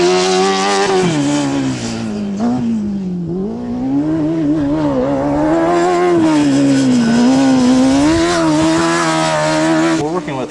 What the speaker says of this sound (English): Cal State University of Northridge with their Formula SAE car, shaking it down.